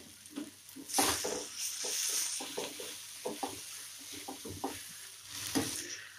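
Rajwadi masala with turmeric, red chilli and coriander-cumin powder roasts in hot oil, a soft sizzle broken by repeated scraping strokes of a spoon stirring in the pan, close and with no voices.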